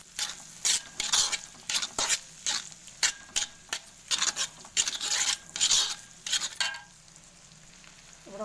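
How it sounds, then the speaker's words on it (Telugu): Egg masala stirred in hot oil in a pan for egg masala noodles: a spoon scrapes and clatters in quick irregular bursts over a steady close sizzle, then the stirring stops and a faint hiss remains. "ఇట్లా మంచిగా కలగలిసేటట్టు కలుపుకుంటూనే ఉండాలి. ఎగ్ మంచిగా గోలాలి నూనెలో."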